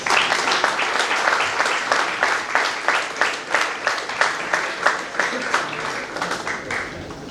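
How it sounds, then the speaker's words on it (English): Sustained applause from a conference audience for the panelists at a management college AI conclave, dense and steady clapping from a crowd, fairly loud and continuous throughout. "Let's give a huge round of applause."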